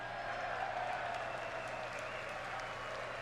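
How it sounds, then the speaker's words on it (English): An audience applauds after a political speech line, a steady wash of many hands clapping heard from a played recording, moderately faint and continuous. "Okay, so he gets applause."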